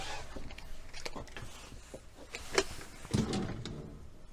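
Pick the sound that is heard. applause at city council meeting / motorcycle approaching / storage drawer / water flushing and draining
storage drawer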